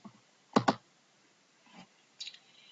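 Two sharp mouse clicks close together, followed by a soft thump and a brief faint rustle, heard alone in a quiet room with no talking.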